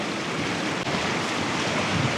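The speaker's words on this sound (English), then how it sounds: "you see those waves crashing like that" Broadband roar of ocean surf crashing on a beach in ferocious wind, loud and continuous throughout with heavy wind buffeting the microphone.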